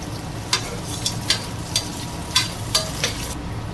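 Onions frying in oil with green chilies and curry leaves for a fenugreek-leaf chicken curry, a steady sizzle broken by about seven sharp scraping stirs of the spatula, close and with no voices.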